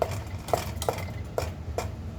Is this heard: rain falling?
no